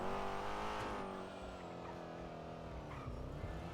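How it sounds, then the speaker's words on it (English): Car braking hard with tire squeal during a PIT maneuver in GTA RP, NoPixel police chase: a loud, steady engine and tire screech that holds for several seconds, shifting pitch toward the end. "Braking. We went for a pit."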